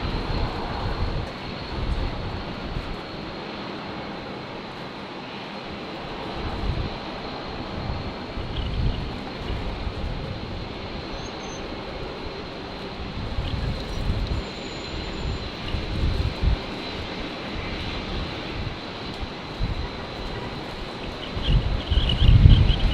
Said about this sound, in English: Yeah, the New Zealand livery is awesome. I love the all black 777.